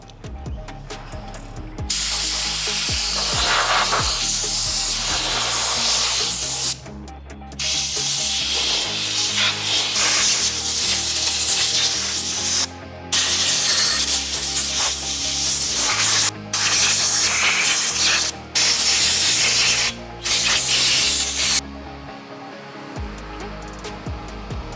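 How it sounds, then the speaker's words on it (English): Compressed air from an air compressor blasts debris out of epoxy molds in loud, close bursts of hissing, several long blasts separated by brief pauses. "We're going to use our air compressor to spray all the debris out of the molds prior to spraying the mold release in them."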